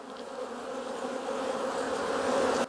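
Honey bees buzzing as they are shaken and transferred into a new Apimaye beehive, a dense, steady swarm drone, close and loud, rising slightly before cutting off.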